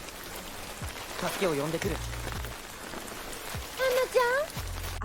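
Steady rain falls at night through the whole stretch, a constant wash of drops on surfaces, with a voice speaking briefly over it and low rumbles underneath.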